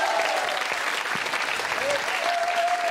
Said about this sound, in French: Merci, applaudissements pour Catogan.